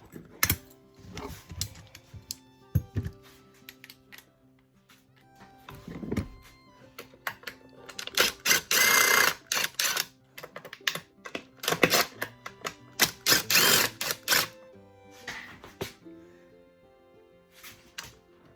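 An impact driver rattles in short hammering bursts as screws come out of a Poulan Pro leaf blower housing, close up, with clicks and handling noise between the louder bursts.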